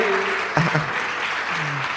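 Audience applause at a live Spanish comedy talk show, a dense patter of clapping with a brief louder burst partway through and faint voices underneath.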